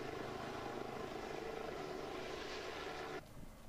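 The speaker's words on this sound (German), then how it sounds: "Ein Hubschrauber filmte das Gebiet rund um den See mit einer Wärmebildkamera." A police helicopter flies over a lake during a search operation, its rotor and engine drone holding steady and fairly loud for about three seconds before dropping away abruptly.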